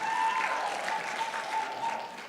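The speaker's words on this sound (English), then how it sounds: "A round of applause to our central bankers." An audience at a school challenge winners' announcement for a central bank's Monetary Policy Committee gives a sustained round of applause, steady and moderately loud throughout.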